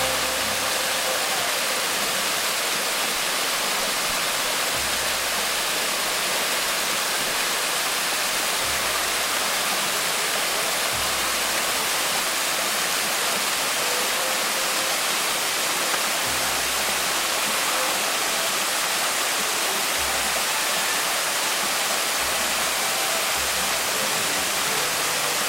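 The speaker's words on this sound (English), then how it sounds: "Near the bottom of the Barnett Branch Trail is this wonderful waterfall." A waterfall on the Barnett Branch Trail in Pisgah National Forest roars in a constant broadband rush, loud and close, with no voices or other sounds breaking through.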